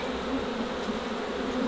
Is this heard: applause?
no